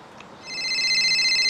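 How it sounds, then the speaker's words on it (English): A telephone rings in the Beer Factory video game prologue, a bright electronic ring that starts after a short pause and holds steady and close for the rest of the moment. "Answer the phone."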